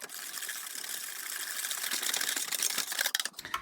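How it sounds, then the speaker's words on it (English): Cheesecake batter whisked in a bowl, a dense continuous scraping and clicking of the whisk going steadily for several seconds and easing off near the end. "now we're going to mix that up really good with our whisk"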